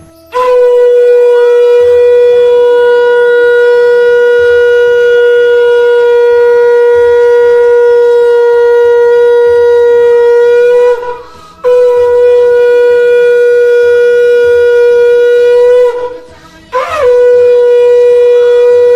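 A conch shell blown at the close of a Navratri aarti at a home puja: a loud, sustained bright tone holding steady for long stretches, broken by two short pauses for breath.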